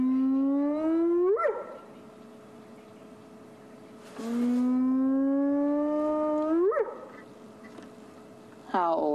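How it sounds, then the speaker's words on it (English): A wild animal howls at sunset on safari in Sabi Sand, South Africa: three long mournful howls, each a low drawn-out tone rising sharply at the end, fairly close and clear, separated by short quiet pauses. "That sounded like a howl."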